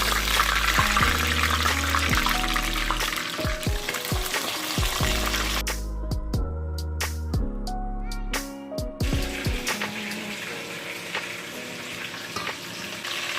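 Chicken pieces browning in a hot pan for Jamaican fricassee chicken, a loud continuous sizzle with repeated clanks and scrapes of a utensil stirring, close up and without talk.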